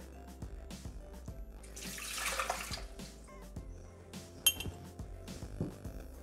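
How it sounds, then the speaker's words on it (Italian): Water running from a tap into a Thermomix mixing bowl, a steady splashing pour that swells and fades over a few seconds, with light clinks of the bowl and utensils nearby and no talking. "Iniziamo la ricetta mettendo all'interno del boccale l'acqua."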